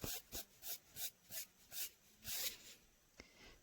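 A rubber eraser scrubbing a pencil sketch on paper in about eight quick, even back-and-forth strokes, close and soft, ending with a small tap.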